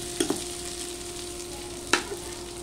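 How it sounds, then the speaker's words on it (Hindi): Potatoes frying in a pan for a fasting-day sago breakfast, a steady close hiss with a few sharp scraping clatters of the spoon, no talking. "ऐसे आलू को हमें भून लेना है अच्छे से"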